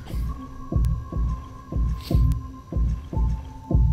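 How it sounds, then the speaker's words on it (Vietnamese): A heavy, muffled heartbeat throbs in a steady rhythm of about seven beats over a low hum, from the monster in the Backrooms video game. It sounds close and deep, with no talk. "Tiếng tim đập này hình như là tiếng con quái sao ấy"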